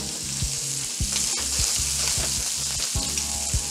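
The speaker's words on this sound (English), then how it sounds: "So you want to get a nice sear on each side." Shrimp searing in a hot pan, a steady loud sizzle and crackle of frying with rhythmic low clanks and scrapes as they are stirred, close up and with no talk.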